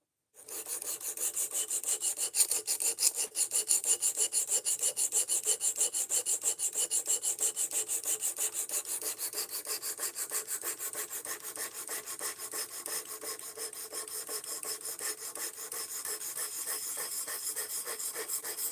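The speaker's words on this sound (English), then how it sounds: "I'm changing the direction of the scratch pattern so that the stone is not writing in the same marks it already cut." A knife blade scraping steadily against a whetstone, making a continuous gritty rasping with fast repeated strokes, close and even in loudness throughout, with no talking.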